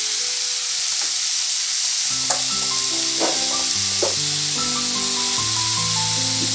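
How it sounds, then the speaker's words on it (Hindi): Chopped vegetables for spring roll filling sauté in a pan with salt and spices, a steady bright sizzle and hiss running throughout with occasional stirring clicks under soft background music. "अब इसको हल्का सा भूनेंगे, बहुत ज़्यादा मुलायम नहीं करना है, हल्का सा भूनेंगे, सारे मसाले मिक्स हो जाएं।"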